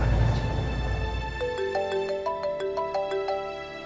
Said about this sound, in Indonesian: HP aku bunyi. Siapa yang nelpon?